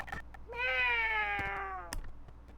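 A single drawn-out cat meow from the video game The Great Ace Attorney Chronicles, clear and close, rising then slowly falling, with a few soft clicks around it.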